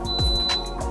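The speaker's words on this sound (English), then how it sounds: "That beep that you just heard is letting you know that it's on and it's getting ready to get started." A countertop cooking appliance gives a single steady electronic beep as it switches into sauté mode, a thin sustained tone running through the whole moment over soft background noise.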